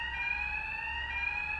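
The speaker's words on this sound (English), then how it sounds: "When the alarm sounds, you should know where you need to go at all times." Building fire alarm sounds continuously with a steady, loud, piercing electronic tone that holds without pause and has no voices over it.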